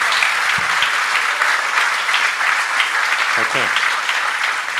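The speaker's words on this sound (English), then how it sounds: "round of applause for Costa Rica por Uvita" An audience applauds at a Nostr conference Q&A session in Costa Rica, dense sustained clapping with a brief voice over it near the end.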